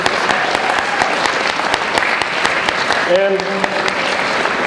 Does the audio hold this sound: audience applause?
yes